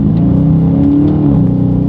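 A 2021 Dodge Charger Scat Pack accelerates hard in first gear, its engine a loud, steady, throaty roar that climbs in pitch through the run, heard close from inside the car with no talk.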